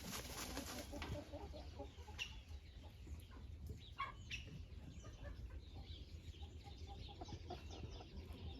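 A Faverolles rooster clucks and calls faintly amid farmyard background noise, a few short vocal bursts rising from a steady low rumble, with a person speaking softly nearby.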